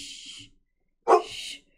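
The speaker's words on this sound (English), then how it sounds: "Yeah, if we didn't have the dog barking at us" A small dog lets out two short barks or yips separated by a brief silence, close and fairly clear, with no talking over them.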